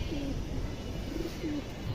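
Indian highflyer pigeons from a BTFC club coo softly nearby, with several short gurgling coos rising over a faint, steady background hum.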